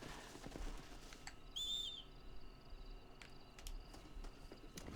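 Horse hooves clip-clop softly in Red Dead Redemption, faint and steady in the background, with a brief bird chirp over them.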